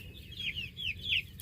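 Baby chicks in a cage cheeping in several short, high chirps over a low rumble, faint and close, while a bigger turkey pecks at them.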